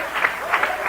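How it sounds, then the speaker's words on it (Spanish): Church congregation applauding during a sermon, a brief burst of steady clapping at moderate level with no speech over it. "Un aplauso al Señor en esta hora."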